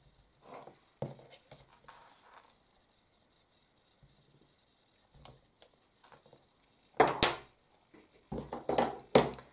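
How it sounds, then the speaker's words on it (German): A rubber stamp inked with Amethyst stamp pad ink is pressed onto a strip of paper for a craft project, giving several soft, close taps and scuffs in quiet bursts. "und stempel mir das jetzt einfach auf."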